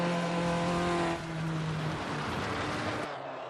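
A Formula Dirt car engine in the Automobilista 2 racing game, a loud sustained engine drone with steady harmonic tone that shifts pitch as the revs change, ending in a drop, with no talk.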